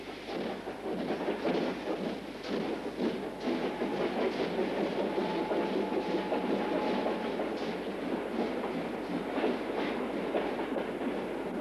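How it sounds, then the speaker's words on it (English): A Märklin model freight train rattles steadily along a track with rhythmic clicking wheels, moderately loud and continuous throughout. "can make way for a freight train on the track"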